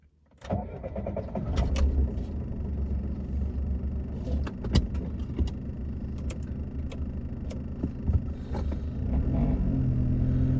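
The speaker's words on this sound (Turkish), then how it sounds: "Aracımıza marş yapalım." A 1999 Daewoo Matiz with a 0.8-litre engine cranks briefly and catches, then settles into a steady, close, rumbling idle that continues throughout with a few light clicks and knocks on top.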